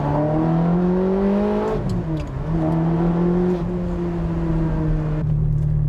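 A Ferrari engine revs loudly and close by, its pitch climbing, dipping briefly, then holding steady before settling at the end, with no talk over it.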